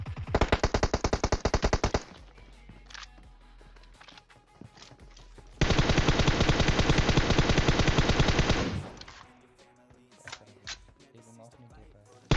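Two long bursts of rapid automatic gunfire in the video game PUBG, loud and continuous, separated by a quieter stretch with scattered clicks and faint talk.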